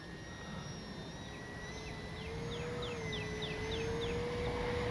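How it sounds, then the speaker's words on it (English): An FMS Cessna Skylane 182 1500mm RC model plane's electric motor whines steadily at a distance over grass, pitch rising slightly as it strains to hang on its propeller, over soft outdoor background noise. "I wonder if I can hover this plane. I don't know if it has enough power to hover or not."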